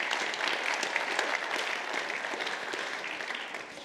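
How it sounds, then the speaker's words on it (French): Audience at a chemistry industry awards ceremony applauding a managing director, a lively continuous round of hand clapping that tapers slightly toward the end. "On peut l'applaudir"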